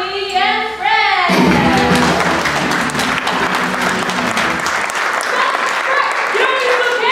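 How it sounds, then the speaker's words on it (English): Audience applause at a middle school one-act play: an amplified voice is heard first, then a loud burst of clapping from a full crowd sustains for several seconds before thinning out, with some talk underneath. "Let's give a warm round of applause for Sally and Fred!"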